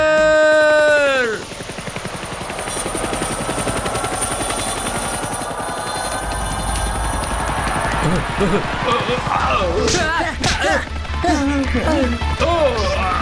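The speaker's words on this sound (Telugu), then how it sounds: "హెలికాప్టర్." Loud rhythmic chopping of a helicopter rotor, steady and close, with a descending tone at the start and shouting voices later on.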